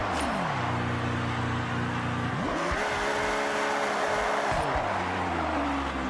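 A car engine in the racing video game Forza drones and revs, shifting pitch up and down through gears, loud and continuous with a constant hum of tires.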